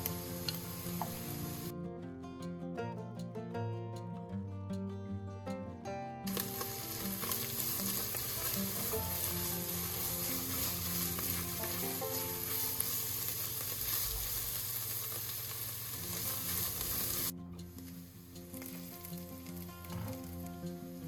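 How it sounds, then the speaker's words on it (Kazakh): Tomato paste stirred and fried in a pot while stuffed peppers and cabbage rolls are cooked, with a steady, close sizzle that carries on for a long stretch amid occasional faint ticking of the utensil. "Енді томатымызды қосып, тағы да араластырып қуырып аламыз."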